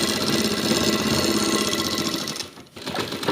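A sewing machine stitching a trouser seam runs in a fast, steady mechanical whir close by, easing off briefly near the end before starting up again.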